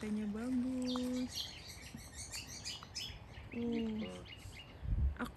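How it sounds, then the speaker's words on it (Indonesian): Two clear, sustained tonal bird calls ring out on a Komodo beach, one early and one later, over a rushing surf-like background with faint higher chirps. "Ada suara burung"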